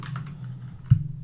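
Quick keystrokes on a computer keyboard sitting just behind a microphone, a few soft clicks followed by a single heavier, louder key thump near the end over a low steady hum.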